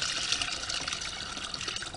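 Free rainwater pours from collection tanks beside a chicken coop, a faint, steady splashing gush that stays even throughout with no voices.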